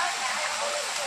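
A rocky mountain river near Devkund Waterfall in Odisha rushes by close at hand, a dense, steady hiss of fast-flowing water filling the moment.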